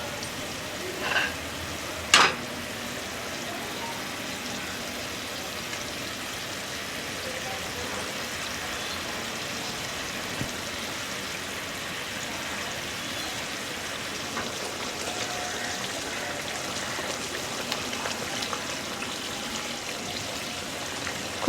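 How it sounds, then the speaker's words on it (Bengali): Fried kalbaush fish settle into a boiling curry gravy, giving a steady bubbling sizzle throughout, with a sharp clatter near the start and faint scattered knocks later. "এবার আমি এর মধ্যে দিয়ে দেব ভেজে রাখা মাছগুলো।"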